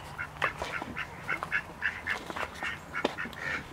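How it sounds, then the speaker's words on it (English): Several ducks, including drakes, quack in short, irregular bursts outdoors on a homestead, fairly close and clear over a quiet background. "Here are the ducks. There's one of the male ducks."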